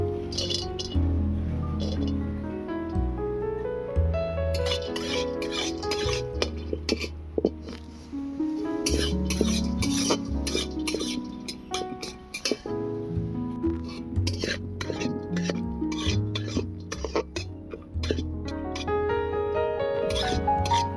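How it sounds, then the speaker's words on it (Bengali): Cashews, raisins and pistachios are stirred in ghee in a wok, giving close, irregular metallic clinks and scrapes of the utensil against the pan in quick bursts, with short pauses between them. "এবারে ভেজে নেব কাজু, কিশমিশ, পেস্তা বাদাম"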